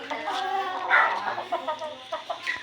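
Backyard chickens clucking close by, a run of overlapping throaty clucks and short calls rising and falling in loudness, with no speech over them.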